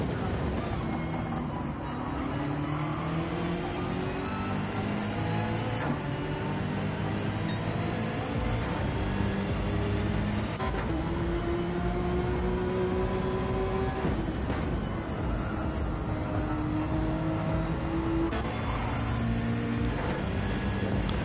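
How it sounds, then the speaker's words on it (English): Gr.3 race cars in the Gran Turismo 7 video game run at Dragon Trail Seaside in a team race, with a steady, continuous engine drone and gear-change pitch sweeps, loud and constant throughout without pauses. "And Deadshot almost clipped the rear right bumper of Arthur"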